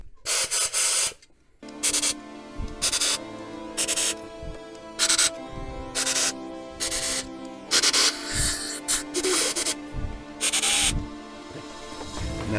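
Compressed air blasts into the head bolt holes of an engine block covered with a rag, coming as repeated loud hissing bursts of about a second each, separated by short pauses and faint clanks.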